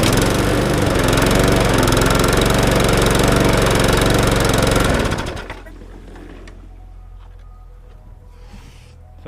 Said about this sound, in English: Let's see if the drive works on this one.